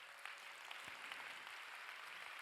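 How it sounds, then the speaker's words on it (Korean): Church congregation applauding at a Sunday worship service, a steady dense wash of clapping from a large crowd with no talking over it. "여러분, 더 크게 박수해 주셔야 돼요."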